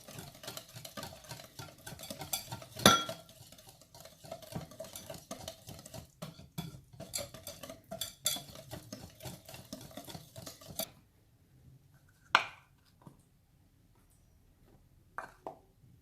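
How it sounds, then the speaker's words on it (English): Orange cake batter being stirred in a bowl, with steady soft scraping and a few sharp clinks of the spoon against the rim. The stirring stops partway through, leaving near silence with occasional isolated taps. "You can start to mix it."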